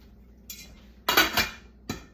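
A lid is set on a pot of basmati rice and water with a few close metallic clanks, one light tap and then two louder clinks, in a quiet kitchen.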